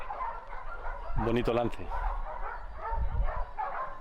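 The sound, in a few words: hunting dogs barking at a wild boar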